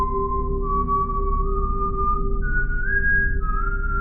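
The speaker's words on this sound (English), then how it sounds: "Then came the whistle." Soft, steady whistling of a simple childlike tune at night, long sustained notes sliding gently up and down in pitch, clear and close over a low background hum.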